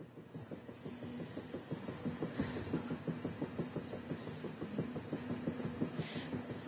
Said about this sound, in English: we want to hop back aboard the Canadian Pacific Holiday Train